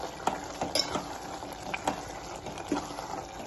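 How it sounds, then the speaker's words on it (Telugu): Tomatoes stirred into a pan of frying spinach and egg curry, with a soft continuous sizzle and several spoon scrapes and clinks against the pan, fairly quiet and close, no talking. "టమాటాలు వేసేసి"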